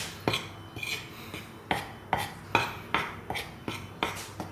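Pork ribs are stirred with cornstarch in a bowl, producing a steady series of about nine regular clinks and scrapes of utensil against the dish, close and fairly loud.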